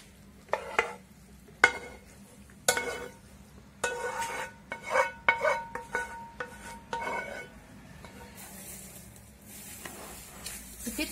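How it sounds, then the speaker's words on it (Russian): Korean-style carrots and meat being stirred in a pan with cilantro, giving irregular scraping clatters of spoon against pan over a low sizzle, close and moderately loud, with no talk. "Все вот это перемешиваем хорошенечко."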